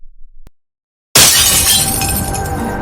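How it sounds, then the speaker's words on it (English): After a short stretch of near silence, a new car's windshield is suddenly smashed in one loud, close burst of shattering glass, followed by a long tinkling trail of falling fragments. "You just smashed the windshield of my car."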